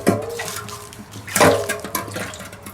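Water sloshes and gurgles inside a Yonaka catback muffler for a GR86 as it is handled. The splashes come in irregular bursts, close and fairly loud.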